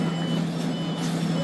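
Steady reversing warning beeps from a bus on a Bangkok street, loud and close over a continuous low engine rumble, with no talking.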